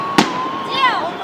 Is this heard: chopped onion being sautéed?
no